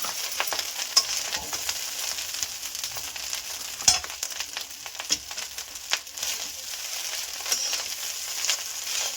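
Fried rice sizzling steadily in a pan as masala is stirred through it, with continuous crackle and frequent scraping clicks from the utensil, moderately close and fairly quiet.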